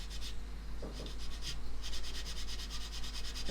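A plastic model seam is rubbed with the fine side of a sanding stick, producing short, soft rasping strokes in quick repeated bursts, close up and fairly quiet with no talking.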